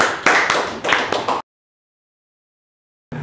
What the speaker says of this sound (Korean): 오늘은 강사로 모시는 거니까 우리 박수로 환영하도록